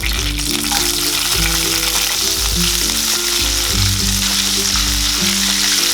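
Green peas fry in a wok with a dense, continuous sizzling hiss, close and steady, layered over background music.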